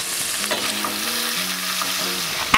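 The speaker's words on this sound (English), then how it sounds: "Add the olive oil, then the beef tips to a frying pan on high heat and let them brown on both sides for about 30 seconds." Vegan beef tips browning in olive oil in a frying pan over high heat give a strong, continuous sizzle with crackling spatters close up, and a sharper pop near the end.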